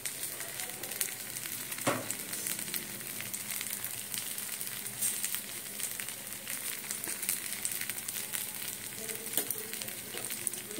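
Food fries in ghee on a pan with a steady, close sizzle and soft crackling, plus a few scraping touches.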